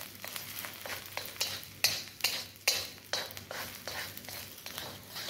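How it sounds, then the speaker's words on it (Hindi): Chopped garlic and ginger fry in oil in a pan for a Mongolian chicken stir-fry, a soft steady sizzle broken by several sharp scraping stirs of a utensil against the pan, close and moderately quiet. "लहसुन बारीक कटा हुआ 1 टेबल स्पून, अदरक भी बारीक कटी हुई 1 टेबल स्पून। इसे थोड़ा फ्राई कर लेंगे"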